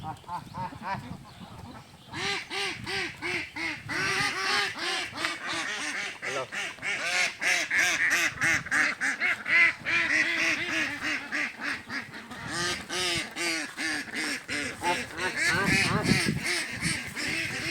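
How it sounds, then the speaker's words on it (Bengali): Many ducks quack continuously at a village farm, a dense, overlapping chorus close by with some honking calls mixed in and occasional voices in the background. "এই যে তারা এখানেও কিছু হাঁস রেখেছে"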